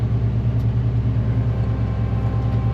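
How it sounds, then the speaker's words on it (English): A truck engine rumbles steadily at close range as the truck pulls forward out of a shop, a low, even, pulsing drone with no talking. "I got to pull this truck ahead."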